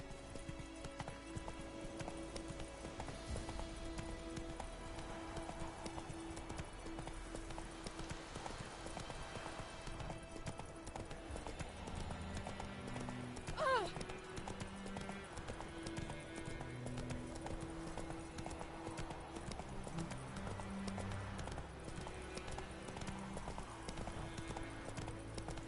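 Horse hooves clop in a steady, quick rhythm on a road in the video game Witcher 3, continuous and fairly close over quiet background game ambience, with an occasional faint snort or whinny.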